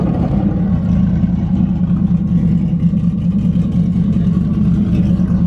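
A twin-turbo Mustang engine running loud and close with a steady, deep droning rumble and slight revving throughout, with no clear voices.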